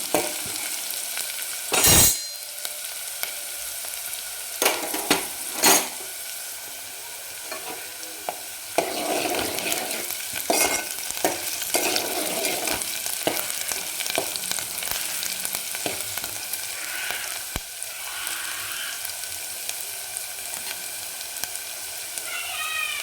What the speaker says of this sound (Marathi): आपल्याला कांदा थोडासा एक मिनिटभर फक्त परतून घ्यायचा आहे